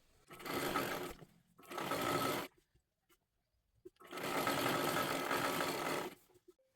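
A sewing machine runs a stitch along silky fabric lining in three distinct bursts of steady whirring, the last one longest, separated by near-silent pauses, heard close and alone.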